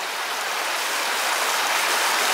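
Horner Water, a small stream by a footbridge near Porlock, flowing with a steady close rushing wash of water, loud and unbroken, no voices.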